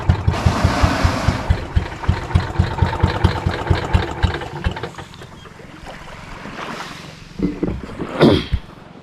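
A nearby motorboat engine chugs in a fast, regular rhythm, then cuts out as the boat runs aground on Hakupan Island, Marinduque, leaving quieter rustling and a short burst of noise.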